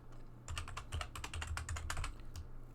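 Code being typed on a computer keyboard during a programming lecture: a quick run of soft, close key clicks in a steady patter over a low hum, with no talking.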